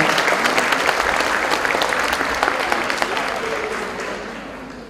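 Audience applauding graduating students at a school graduation ceremony, steady dense clapping from a crowd that continues throughout and eases slightly toward the end.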